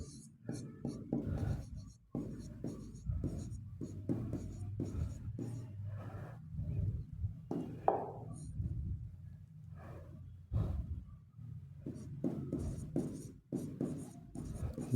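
A marker or pen writes a physics term in a lecture on units and dimensions, giving repeated close scratching strokes in irregular bursts across the whole stretch with only faint breathing and no talk.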